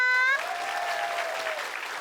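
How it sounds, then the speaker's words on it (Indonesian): Studio audience applause for all the participants of a comedy variety show, a dense burst of clapping that starts loud right after a brief voice and carries steadily to the end. "kita kasih tepuk tangan dulu buat semua peserta."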